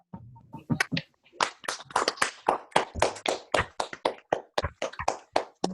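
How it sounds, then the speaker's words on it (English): Participants on an unmuted Zoom call applauding, a thin, uneven patter of a few people's handclaps through laptop microphones, steady for several seconds with no talking. "let's all give a big round of applause"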